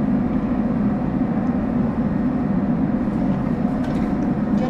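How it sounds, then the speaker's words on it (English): An ALP-46 New Jersey Transit electric train coasts along the line, giving a steady low rumble and rolling hum from the cab with no other sounds on top. "So, just gonna let the train coast."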